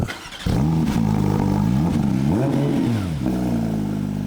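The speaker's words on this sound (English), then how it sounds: "let's hear the GT3 RS and see how this compares" A Porsche GT3 RS engine revs hard, rising and falling in pitch through several quick blips, loud and close with no talking.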